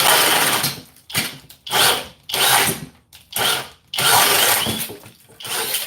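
A Flex cordless drill runs at speed 2 in repeated loud bursts of whirring motor noise, about six runs separated by brief pauses, close to the microphone.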